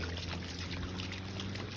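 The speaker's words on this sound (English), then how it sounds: "it's raining. And you're still walking through the puddles." Rain patters steadily during an outdoor dog walk through puddles, a constant broadband hiss with faint splashes and trickles, evenly loud and close for the whole moment, with no talking.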